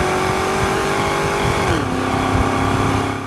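A 2000 Pontiac Formula WS6 with an LS1 V8 and factory automatic winds up loudly from inside the car, its engine note rising smoothly then dropping as the transmission shifts, with tire and road noise underneath.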